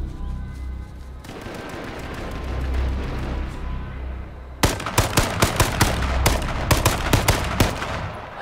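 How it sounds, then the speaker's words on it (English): Gunfire in the online survival shooter H1Z1: after a stretch of noisy rumble, a rapid burst of a dozen or so sharp shots rings out in quick, slightly uneven succession, fairly loud and close. "I'm gonna shoot a tree in case I see him."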